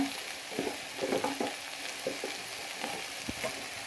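Capsicum, carrot, papaya and potato fry with ginger in a pan, giving a steady close sizzle with frequent soft spatula scrapes and stirring knocks.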